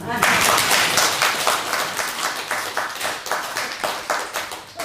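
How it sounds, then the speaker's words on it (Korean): Audience at a church missionary-training lecture clapping together, a dense, steady patter of many hands that stays fairly loud for about five seconds, with voices talking over it. "박수 한번 주세요."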